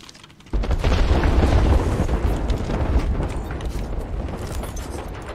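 A grenade goes off in Apex Legends with a sudden loud boom, then a long rumbling roar that slowly fades over several seconds during a match.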